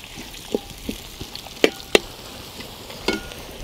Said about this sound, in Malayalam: നമ്മുടെ ഉള്ളി ഒരു വിധം മൂത്തു വന്നിട്ടുണ്ട്.